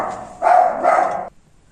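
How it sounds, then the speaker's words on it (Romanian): Small pet dog giving two quick, close barks in a row, loud and sharp against a quiet room, then silence. "cățelul meu a chiar și lătrat"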